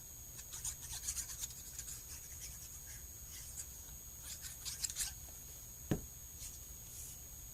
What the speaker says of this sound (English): Just go back and forth and just kind of cut it like that.